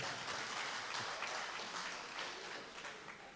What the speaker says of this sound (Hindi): इस बात के लिए एक मरतबा ताली बजा दीजिए आप लोग।